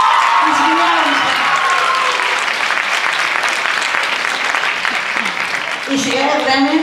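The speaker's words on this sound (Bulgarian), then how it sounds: "Аплодисменти за Пепи." Sustained audience applause fills a dance festival closing ceremony in Pernik, with a voice speaking over the clapping near the start and again near the end.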